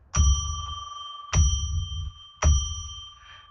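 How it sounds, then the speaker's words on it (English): A small bell is struck three times at even intervals, about a second apart, to mark a ritual space. Each bright, clear ring sustains and fades before the next strike, heard alone. "I'm going to ring a bell 3 times to declare sacred space."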